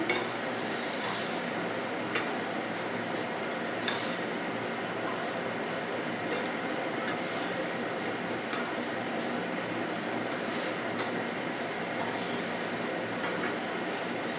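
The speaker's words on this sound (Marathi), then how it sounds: "आता यामध्ये आपण कोथिंबीर घालून घेऊया मिक्स करूया" Coriander being stirred into dry sprouted moth bean matki curry in a pan, with a soft sizzle underneath and regular light metallic clinks of a spoon against the pan, close by and without voices.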